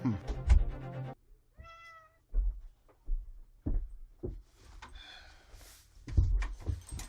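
A house cat meows once, a clear drawn-out cry partway through, between stretches of a person talking nearby.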